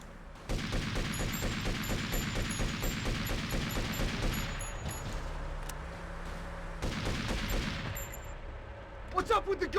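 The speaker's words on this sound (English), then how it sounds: "We're taking enemy fire." Enemy gunfire rattles in rapid, regular bursts during a military convoy scene in a video game, loud and close for several seconds, then breaking off to a low hum before another volley and scattered shots at the end.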